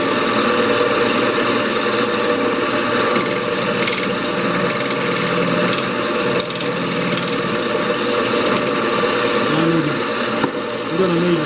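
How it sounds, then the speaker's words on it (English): Skew chisel flattening a 12-inch maple vase spinning on a wood lathe, a steady loud motor hum with a continuous cutting hiss, no breaks throughout. "I'll try to do that just with a skew, and just flatten that across."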